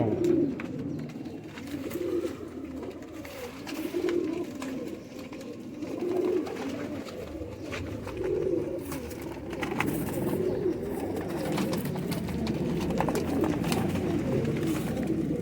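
High-flying Ustad Azad pigeons coo in soft, repeated low rolling calls, several overlapping at moderate distance over a faint background hiss.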